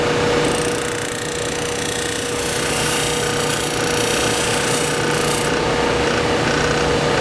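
A Scotch-Brite abrasive wheel grinds and cleans up the ends of a knife blade, making a loud, continuous rasping whir with a bright high hiss, heard close up and alone.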